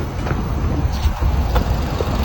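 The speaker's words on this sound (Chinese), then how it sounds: "快看，发动机运转的特别的平稳" A car's engine idling steadily after a fault repair, a low even rumble with faint road noise and a few brief clicks, no talk.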